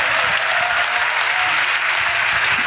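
Congressmen applauding in a legislative chamber, a dense, steady clapping from a large group that fills the room close by, loud and continuous with no break.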